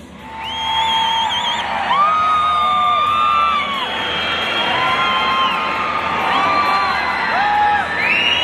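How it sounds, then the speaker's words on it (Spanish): Thousands of rock concert fans at the Coliseo de Torreón roar as the band takes the stage, a dense, loud, sustained crowd of cheering, whoops and piercing whistles that swells and holds for several seconds with no clear talk. "los miles de fanáticos asistentes encendieran sus celulares y dieran un grito estruendoso al momento"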